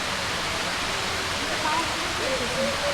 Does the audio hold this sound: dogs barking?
no